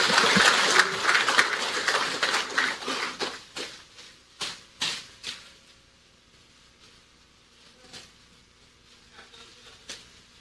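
Applause from a press conference crowd as presidential candidate Moon Jae-in enters, a dense burst of clapping that thins into scattered, separate claps and dies out.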